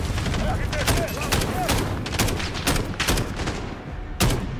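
Rapid gunfire in Call of Duty Modern Warfare 2019 on realistic difficulty, with repeated sharp shots fired in quick clusters over continuous combat noise, and faint voices mixed in.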